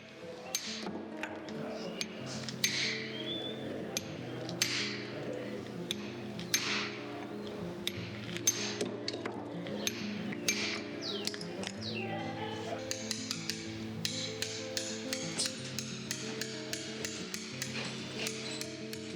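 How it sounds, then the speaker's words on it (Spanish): Mallet blows on a stone chisel against a stone block, roughing off waste material: sharp, repeated clinks at an irregular working rhythm, fairly close, with a steady tonal background running underneath. "Apoyando el escafilador sobre el bloque, un poco por encima de la línea y golpeando con la maza, podremos eliminar gran cantidad de material sobrante."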